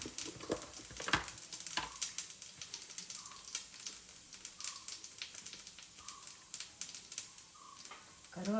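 Urad dal, chana dal and cumin crackle and sizzle in hot oil, a steady close frying hiss dotted with sharp pops and spatters throughout, no voices.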